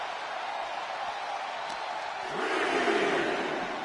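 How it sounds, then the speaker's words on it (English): A wrestling crowd at a live event cheering as a steady, distant roar that swells louder midway, with a few shouted voices rising over the noise. "And the crowd feeling it here tonight"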